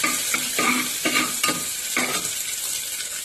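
Chopped onion and green chili stirred in a pan over medium gas heat, a continuous close sizzle broken by several rhythmic spatula scrapes, no talk.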